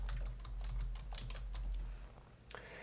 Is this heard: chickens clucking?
no